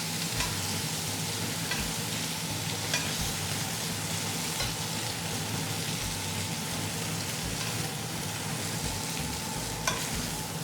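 Beef pieces browning in a pot for Del Monte caldereta, a steady, close sizzle and crackle of frying meat running evenly throughout with no voices.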